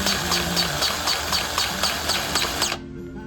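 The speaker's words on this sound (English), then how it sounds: "so I'm gonna use my very handy DeWalt cordless grease gun. Put a little bit in there." A DeWalt cordless grease gun pumps grease into the front axle of a Massey Ferguson 1560 tractor, giving a loud, steady motorized whir with a rhythmic clicking pulse that cuts off abruptly near the end.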